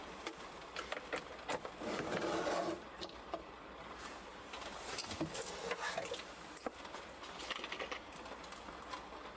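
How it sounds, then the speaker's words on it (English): A plastic part from an RG God Gundam model kit is filed by hand, giving a series of quiet, rough rasping strokes with short gaps between them, close and fairly faint. "We're gonna file it."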